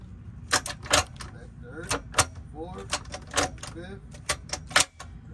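Gear shifts are worked through an Acura Integra manual transmission in a garage, a series of sharp mechanical clicks and clunks of the linkage, about a dozen close, uneven knocks over a low background hum.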